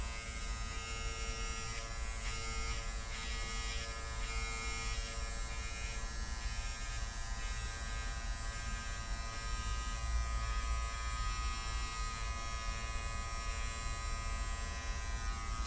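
An electric trimmer lines up facial hair, a steady close buzzing hum that runs unbroken throughout with no talk over it.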